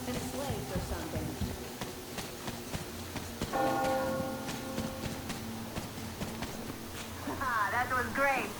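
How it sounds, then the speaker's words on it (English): A bell rings in the video game Metro Exodus, a resonant tolling tone that sustains for a few seconds amid game ambience, footsteps-like clatter and a voice speaking. "Do you hear that bell?"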